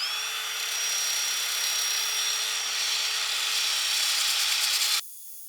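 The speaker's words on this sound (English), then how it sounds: "Time to give the hand drill attachment a whirl." A hand drill fitted with a sanding attachment grinds across a DIY concrete countertop, giving a steady, loud high-pitched whine with a gritty rasp that holds for about five seconds, then stops abruptly, leaving a quieter hum.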